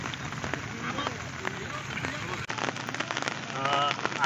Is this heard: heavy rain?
yes